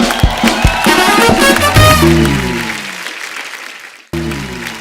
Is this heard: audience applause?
yes